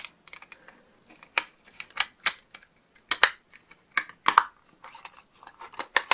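Plastic click-together case for a set of Bulls Robert Wagner 23g darts, snapping and clicking shut in a quick series of sharp, close, loud clicks and taps with no voice.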